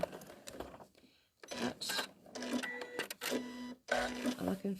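A sewing machine stitches a fabric collage in short, irregular bursts, close and fairly loud, with brief pauses between runs and a faint voice underneath.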